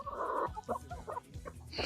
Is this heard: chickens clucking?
yes